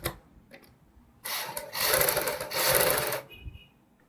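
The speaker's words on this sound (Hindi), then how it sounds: "हम बुकरम के साथ साथ सिलाई लगाएंगे।" A sewing machine stitches a buckram-backed boat neck on a kurti, starting with a few light taps before a loud, steady whirring run of about two seconds with a brief dip, then stopping.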